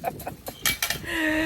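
Chickens in a backyard coop on a hot summer day cluck in short choppy bursts at close range, followed by a steadier drawn-out call.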